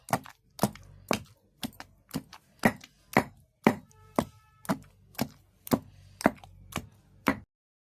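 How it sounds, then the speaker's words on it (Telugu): Onion is pounded in a stone mortar for a rustic roti chutney, about a dozen sharp, evenly spaced thuds close by with no talk, stopping abruptly at the end. "మనం వేసిన ఉల్లిగడ్డ ఏ ఊరికి పోయిందో తెలియకుండా కనపడకుండా దంచాలి"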